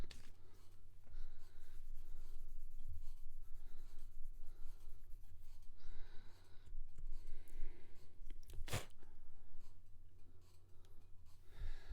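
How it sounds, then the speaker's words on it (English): Plastic model kit parts for a Gundam 00 Raiser and GN Sword III are sanded by hand in soft, repeated scratchy strokes, close and fairly quiet, with a sharp knock near the end. "I'm just going to sand it down and see if that helps any."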